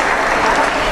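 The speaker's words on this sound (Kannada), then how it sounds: "ತಾವೆಲ್ಲರೂ ಜೋರಾದ ಚಪ್ಪಾಳೆ ತಟ್ಟಬೇಕು." Audience applause at an organic farming fair event, a dense steady wash of clapping filling the whole moment without pause or talk over it.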